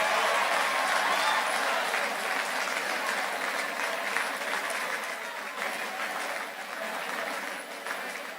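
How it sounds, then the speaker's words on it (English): A crowd gives a sustained standing ovation at a university congregation ceremony, dense hall-filling applause that stays loud throughout and tapers slightly toward the end. "Give her a standing ovation"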